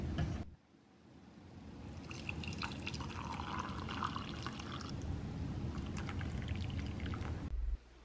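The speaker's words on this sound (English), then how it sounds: "I'm gonna pour it in to my mug after I put my little tea bag in it" Warmed-up water poured from a kettle into a mug holding a tea bag, a close, steady gurgling stream lasting several seconds before stopping abruptly.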